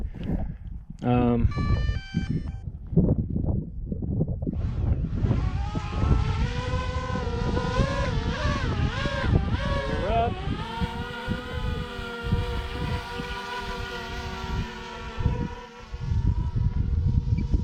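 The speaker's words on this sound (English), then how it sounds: "So this is how it sounds flying a drone." A high, whining buzz of a drone's motors rising and shifting in pitch as it flies in windy conditions in Bolivia, with wind rumble and a voice talking early on.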